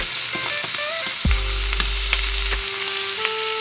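Onions frying in olive oil over low to medium heat give a steady close sizzle, with a loud burst as they hit the pan partway through, then settle into continuous crackling with small clinks.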